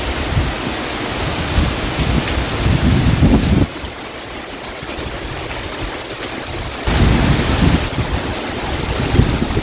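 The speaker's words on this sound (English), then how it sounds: "That's some serious rain right there." Heavy rain in Belize roars steadily, dropping in intensity midway before surging back, with deep low rumbling of thunder underneath. No speech.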